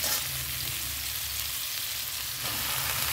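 Leafy greens tossed into potatoes frying in a pan give a loud, continuous hissing sizzle with a slight surge near the end, close up and with no talking.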